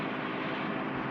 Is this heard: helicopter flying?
yes